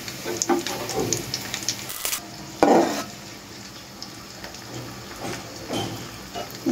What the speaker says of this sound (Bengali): এখন আমি পেঁয়াজটাকে একটু লাল লাল করে ভেজে নিব।